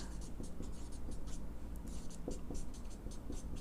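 Pen or marker writing on a board during a probability lesson on digit sums: soft, rapid scratchy strokes in short repeated bursts over a low room hum, close and fairly quiet, with no speech.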